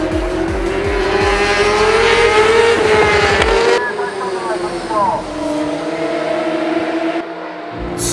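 Honda racing motorcycle at the All-Japan Road Race Championship accelerating hard at wide-open throttle, a loud, steady high-pitched engine wail that rises and shifts, with a brief voice partway through.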